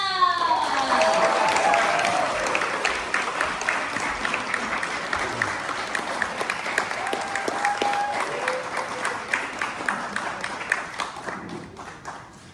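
Audience clapping at a sumo show, dense at first and gradually thinning into scattered individual claps as it fades out.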